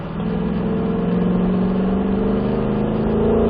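A car engine pulls hard on throttle out of a corner, a loud continuous drone with harmonics climbing steadily in pitch as it accelerates, close and unbroken.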